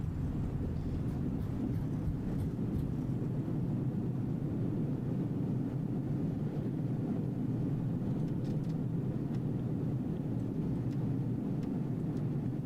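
A steady, loud roar from an Airbus A320 reverse thrust on landing in a flight simulator, sustained without pause through the whole span.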